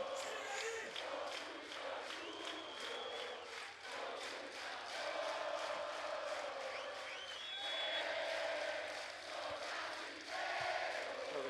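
Crowd at a beach volleyball Grand Slam final in Sao Paulo singing and cheering as Brazil closes in on victory, a sustained distant roar with rising chants and occasional whistles.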